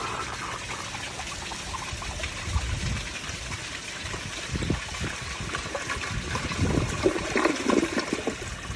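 A 1991 Kohler Wellworth Water Guard toilet flushing, with a steady rushing of water through the bowl and a gurgling swirl that grows slightly louder toward the end.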